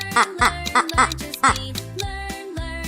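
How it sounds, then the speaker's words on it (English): A duck gives several short, quick quacks in a row against a cheerful children's song with brief singing. "It's a duck."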